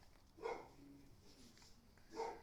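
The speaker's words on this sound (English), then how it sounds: "The dogs are agreeing. I'm sorry, they're in the background." Dogs bark in the background during a pocket fixed-blade knife demonstration, two faint, distant bark bursts separated by a quiet stretch.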